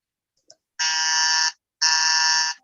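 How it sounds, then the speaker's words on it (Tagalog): A game show contestant buzzer during a family quiz round sounds twice, each a loud, harsh electronic tone lasting about three quarters of a second, separated by a short silence, after a faint click. "So I heard the buzzer of the two of you."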